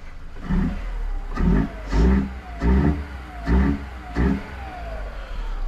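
A Škoda Fabia engine revs up five times in steady pulses with the hood closed, each rising roar sounding muffled and dull before easing back toward idle.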